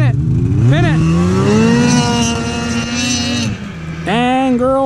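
An 850 snowmobile engine revs hard and climbs in pitch as the machine launches, loud and close, dipping briefly before a second surging rev; a voice may be mixed in.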